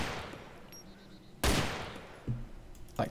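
Gunfire from a gun in the game Arma 2 DayZ: a low-level ambient backdrop broken by a sudden loud shot, then a few further bursts at irregular intervals.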